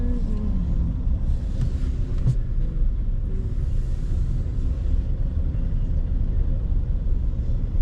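Heavy street traffic with motorbikes in Phnom Penh, a constant close low rumble of engines with passing vehicles and a brief clank, steady throughout without talk.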